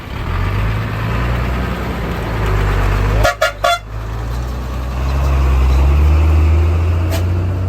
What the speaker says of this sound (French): Et regarde les beaux camions là.